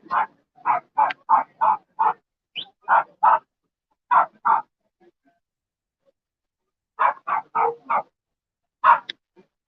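A small dog barks repeatedly at close range in rapid, evenly spaced bursts, pausing briefly before another run of quick barks, loud and clear with no talking, outdoors at a motorcycle rally.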